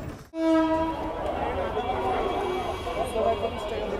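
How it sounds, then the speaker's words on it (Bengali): A launch ferry sounds a loud, steady horn blast about half a second in, then busy dockside noise and chatter carry on underneath. "এর জন্য লঞ্চটা আসলে হর্ন দিতেছে।"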